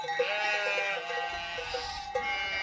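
Sheep bleat repeatedly in highland pasture, several overlapping calls near and mid-distance over a quiet open-air background, with no talking.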